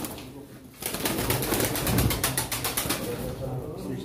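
Pigeons at a pigeon auction fill the space with a dense, continuous cooing and rustling flutter, close and fairly loud, starting abruptly after a quiet moment.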